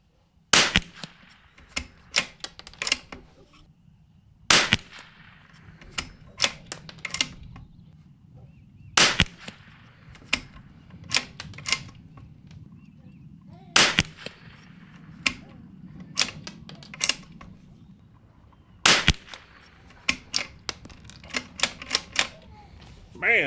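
A rifle fitted with a WOOX Cobra Precision Tikka stock, fired with CCI Standard ammunition at 50 yards: sharp, suppressed-sounding cracks at irregular intervals, over a low background hum and clicking handling noise, with a voice speaking in between.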